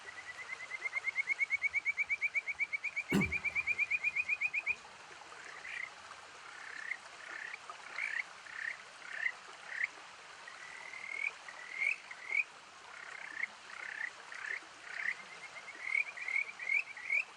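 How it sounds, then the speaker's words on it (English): Kajika frogs call in a rapid run of rising, bird-like trills that repeat in quick succession, then break into spaced, separate chirping phrases, clear and fairly close over a soft background of stream-like hiss. "the kajika, a small frog with a truly delightful call"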